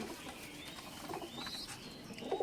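Madrasi Giribaz pigeons at a home loft coo softly in short, faint bursts amid quiet background noise.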